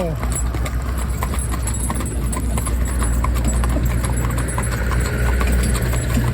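Rapid horse hooves clip-clop steadily over a constant low rumble, with a voice talking underneath.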